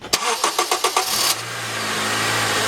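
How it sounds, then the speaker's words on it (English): A Honda engine, just refilled with coolant after a water pump replacement, cranks with about six rhythmic starter pulses, catches, and settles into a steady idle hum, loud and close. "we're going to go ahead and start the engine"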